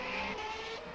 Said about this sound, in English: As I say that, locks tyres.